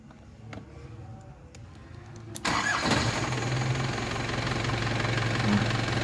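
A light passenger car engine cranks briefly, catches abruptly and settles into a steady idle, heard up close in a vocational school workshop during a lesson on the vehicle charging system.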